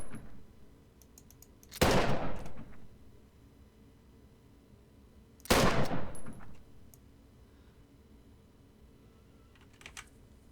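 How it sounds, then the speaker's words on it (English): Two heavy VZ 1895 rifle shots ring out in an Arma 3 World War II mod, each a sharp loud crack with a trailing echo, spaced a few seconds apart over quiet ambient background. "Then next up, we have the VZ 1895. It sounds a lot heavier, I like that sound."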